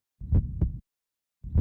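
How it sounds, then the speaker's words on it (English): A deep, muffled double-thump heartbeat from the visual novel game Lamento: Beyond the Void, one heavy lub-dub pulse and then the start of the next after a pause, close and alone. "His heartbeat pulsed as soon as his fingertips touched it."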